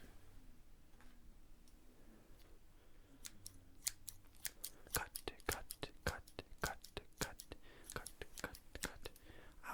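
Crisp scissor snips repeat in a quick, close, fairly regular rhythm, with a faint whisper heard early on.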